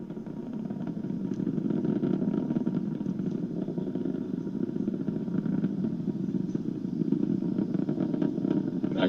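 A SpaceX Falcon 9 rocket climbing through supersonic flight toward max-Q during the Inspiration4 launch, a steady, dense low rumbling roar that holds unbroken throughout with no voices.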